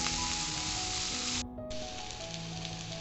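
Garlic sizzling in a pan of oil with green chillies and onion for a drumstick dumpling dish, a loud continuous frying crackle that briefly dips midway, with no talking.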